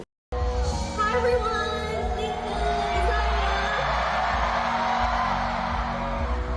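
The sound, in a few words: crowd screaming at concert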